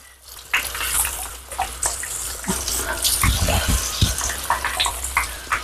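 Steady running water from a tap gushes while a German Spitz dog is bathed, a loud continuous wash with splashes and uneven surges throughout.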